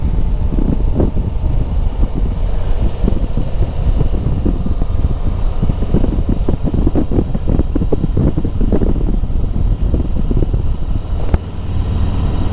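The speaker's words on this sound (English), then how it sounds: "Sorry guys, a bit windy." Wind buffets a microphone outdoors on a suburban road outside Perth: a loud, steady low rumble and roar runs the whole time with no one speaking.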